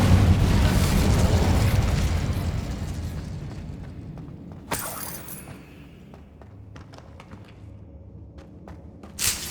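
An Incendio fire spell cast in the Hogwarts Legacy video game bursts with a loud whooshing roar that gradually fades, followed by a sharp crackling pop and scattered small impacts amid quieter game ambience.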